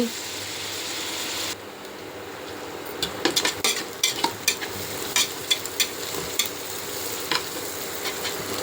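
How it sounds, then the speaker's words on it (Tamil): Onions sautéing for biryani in a pan, with a steady close sizzle throughout and irregular sharp clinks of a spatula stirring against the metal in the second half. "எல்லாம் வதங்கிருச்சு பாருங்கள் நல்லா வெங்காயம் வதங்கிருச்சு"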